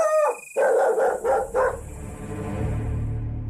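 A dog barks aggressively in a few harsh, loud bursts close by, then falls away into a quieter, drawn-out tail.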